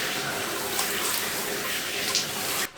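Steady broadband rush of tap water running while someone washes their hair at a basic sink, continuous and close throughout, ending abruptly as the flow cuts off.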